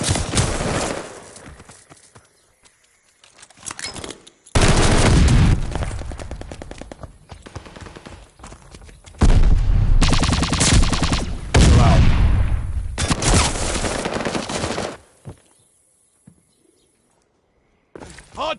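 Gunfire around a hardpoint objective in Call of Duty: Vanguard, loud bursts of automatic shots in several dense clusters separated by quieter stretches.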